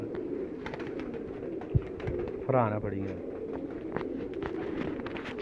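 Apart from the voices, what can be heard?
pigeons cooing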